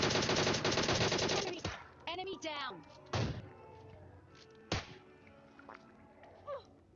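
A loud burst of rapid automatic gunfire in the mobile battle game PUBG Mobile Lite is followed by a few single shots, with someone speaking between them.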